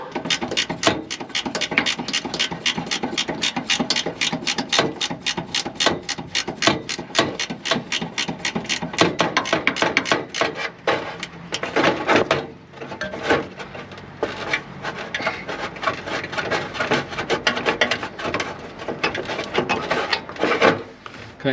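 A ratchet works steadily on an anti-roll bar bolt under a VW Caddy 2K, giving a long run of fast, close, rasping clicks that pause briefly midway and then resume.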